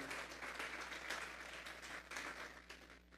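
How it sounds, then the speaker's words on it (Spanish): Congregation clapping during a Sunday church service, a steady wash of many hands at moderate level with small swells, no talk over it. "Vamos a darle una ofrenda de palmas a ese Dios maravilloso."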